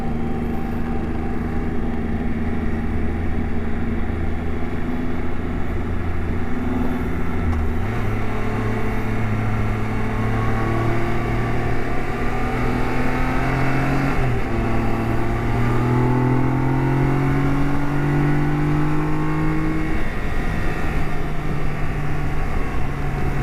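A Triumph Trophy SE motorcycle is ridden through a series of corners. Its engine drones steadily and close, the pitch climbing and then dropping at each shift or throttle change, with no talking.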